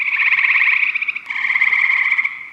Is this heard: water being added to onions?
no